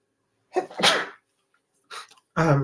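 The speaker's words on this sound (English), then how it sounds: "excuse me, I'm about to sneeze" A single sharp sneeze with a quick inhale before it, followed by a couple of short breathy sounds and a brief vocal noise.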